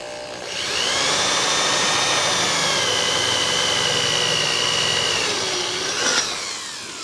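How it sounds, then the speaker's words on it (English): A shop vacuum runs close and loud for several seconds, sucking out drill shavings from freshly drilled holes while building a chain harrow storage post, with a steady whining roar that dips briefly near the end. "So kind of got to vacuum it out every little bit."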